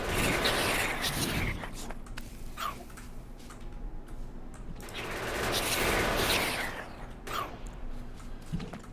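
Gun turrets in Factorio firing yellow ammunition, rapid bursts of gunfire that come in waves over a constant mechanical background clatter.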